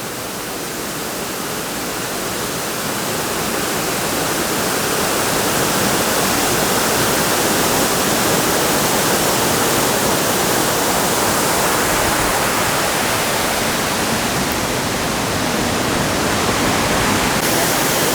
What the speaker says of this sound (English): So you can just walk up the sides of the waterfall here to get a view from up there.